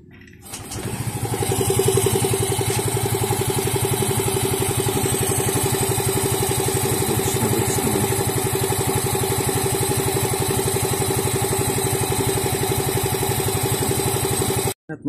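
A Yamaha Mio Gear scooter engine cranks and starts after a CVT cleaning, then settles into a steady, loud, close idle that runs continuously before cutting off at the end.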